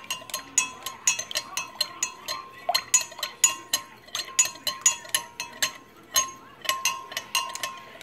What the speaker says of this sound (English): And we're going to stir for a couple minutes until the wax binds.